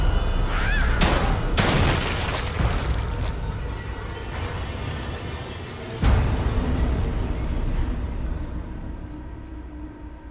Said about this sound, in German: Der erste Schuss ging eiskalt daneben.